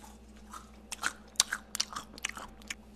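Bites into a crunchy churro give a series of sharp, close crunches followed by chewing, irregular bursts spread over a few seconds with no talking.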